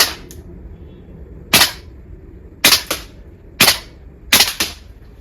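A VFC V3 gas blowback airsoft rifle fires BBs in sharp, snappy cracks: a single shot, then several more spaced about a second apart, the last a quick double, each loud and close with a short metallic cycling tail.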